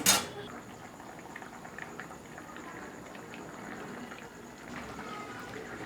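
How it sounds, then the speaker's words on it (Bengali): Potatoes bubbling in a curry broth for a vegetarian soya chunk fish-style curry, a steady soft simmer with a brief clink at the start and faint kitchen noise underneath. "এবার এটা আলু গলা অবধি ফুটাবো।"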